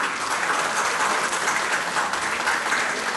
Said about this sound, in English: Please put your hand together and clap for Khurram